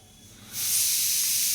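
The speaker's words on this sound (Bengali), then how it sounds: "প্রেসার কুকারে আওয়াজ শুনতেই পাচ্ছ ওইদিকে প্রেসার কুকারে এ হচ্ছে ডাল হচ্ছে" A pressure cooker cooking dal suddenly releases a loud, steady jet of hissing steam that cuts in after a moment of quiet and keeps going without a break.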